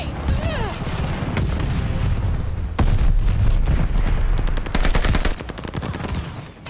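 In the video game Call of Duty: Vanguard, a grenade goes off among heavy gunfire, with loud, sustained shooting, booming impacts and rapid bursts of fire throughout a chaotic match.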